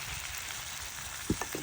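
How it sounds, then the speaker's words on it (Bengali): Onions fry in a pan on a home stove, giving a soft, steady sizzle with a few brief clinks of stirring near the end. "এই দিক দিয়ে পেঁয়াজটা অনেকটা ভাজা ভাজা পেঁয়াজের মতো হয়ে যাচ্ছে"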